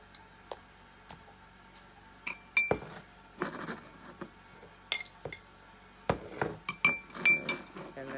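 A spoon clinks and scrapes against a glass jar while ingredients are mixed, with irregular bright taps and rattles, some quick bursts of clinking and quiet pauses between.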